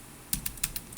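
Rapid keystrokes on a computer keyboard, four or five crisp clicks in quick succession, close and clear against a faint background hiss.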